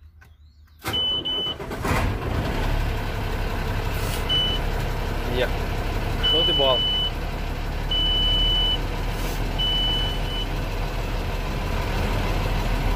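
A Mercedes-Benz 1718A 4x4 truck engine starts and then settles into a steady, loud diesel idle that runs to the end. Someone talks over the running engine, and short electronic beeps sound at intervals.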